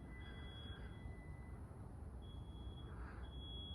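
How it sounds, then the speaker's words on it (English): A distant smoke alarm sounds from a neighboring house, a thin steady high beeping tone far off beneath constant outdoor background noise. "There's a smoke alarm going off."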